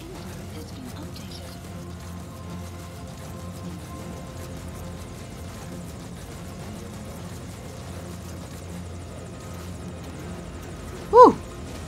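A helicopter in Metal Gear Solid V: Ground Zeroes makes a steady, low engine-and-rotor drone that holds evenly throughout. A short, sharp tonal blip breaks through near the end.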